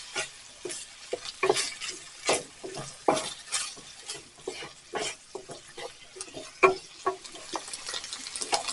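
Ground beef in beef broth bubbles and sizzles in a pan while it cooks down for a casserole, with repeated clattering spoon stirs and scrapes over a low steady hiss.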